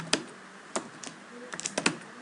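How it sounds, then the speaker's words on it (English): Keys tapped on a computer keyboard while entering router configuration commands, a handful of quiet, irregular clicks in small bursts with pauses between them, close and alone. "type the command mode"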